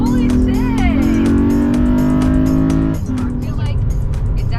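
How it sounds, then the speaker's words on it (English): Honda Pilot fitted with an AEM intake accelerating hard, engine drone climbing through the VTEC crossover, loud and steady inside the cabin, then shifting near the end, with excited voices over it. "I did not think this car like would put out so much like noise for that VTEC crossover that you guys hear"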